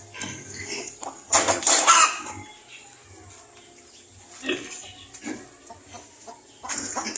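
Hens cluck and squawk in a coop after laying an egg, several loud bursts near the start and a few more scattered calls later over a hissy background.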